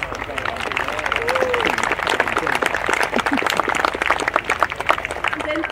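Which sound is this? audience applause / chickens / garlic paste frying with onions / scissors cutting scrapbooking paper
audience applause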